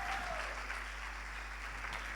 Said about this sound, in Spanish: Fuerte aplauso para José Gallardo, por favor, sal.